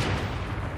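A single heavy gunshot boom from Fortnite, the battle royale video game, with strong low-end weight that decays into a rumbling tail over a brief moment, heard alone without talk.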